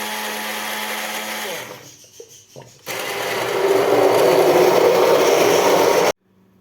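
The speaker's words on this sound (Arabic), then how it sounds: "هنا يا امارات بنطحن الطماطم بالهاند بلندر" Hand blender grinding tomatoes: a steady motor whine, a pause with a few clunks, then a loud coarse churning that builds and cuts off abruptly near the end.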